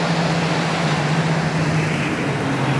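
A steady, broad roar of nearby main-road traffic in Keith, Scotland fills the air, with a low continuous engine hum and no pauses.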